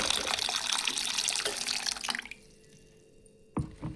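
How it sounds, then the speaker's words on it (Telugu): Two glasses of water pour into a cooking pot of cherry tomato chaaru in a steady splashing stream for about two seconds, then stop, followed by a quiet pause and a brief clank. "ఇప్పుడు దీంట్లో ఒక 2 glasses వాటర్ యాడ్ చేద్దాం"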